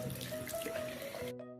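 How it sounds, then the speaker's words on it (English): A tap runs into a sink while hands are washed, a steady close splashing stream that cuts off abruptly near the end, leaving a faint hum. "let's wash your hands."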